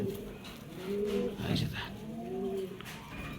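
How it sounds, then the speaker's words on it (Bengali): Soft, low coos of a male racing pigeon repeat in short rolling phrases, close by, over a faint background murmur. "অনেক সুন্দর একটা নর কবুতর দর্শক দেখেন"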